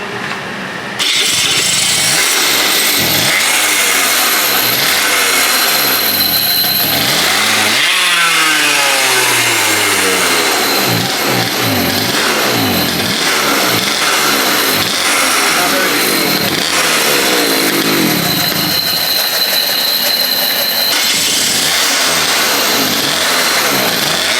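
A high-speed racing go-kart engine runs close and loud, its pitch repeatedly climbing and dropping through sharp revs and throttle blips over a constant rough drone.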